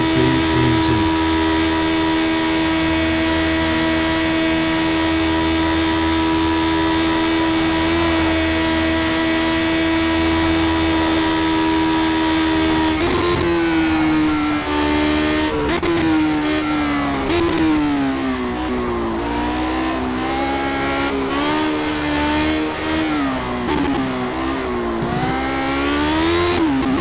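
Lotus 72D race cars scream around the Nordschleife in a sim racing game, with loud, sustained engine tones that hold steady, then rise and fall sharply through gear changes and revs, with no talking.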